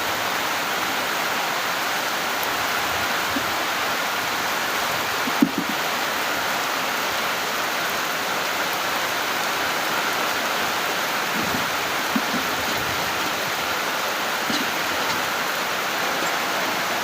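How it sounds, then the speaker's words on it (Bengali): Heavy rain pouring down outdoors as a dense, unbroken hiss that holds steady throughout, with only a couple of faint thumps. "কড়া বৃষ্টি নামতেছে।"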